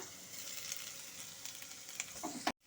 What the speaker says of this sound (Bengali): এখন আমি আলুটাকে ফাঁকা করে নিয়ে ওর মধ্যে আমি ফোড়ন করে নেব